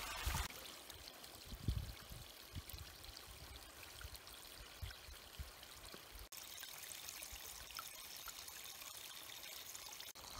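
A creek flows through a snowy winter forest, a steady broadband rush of running water that stays fairly constant throughout, with a brief louder splash near the start and no talking.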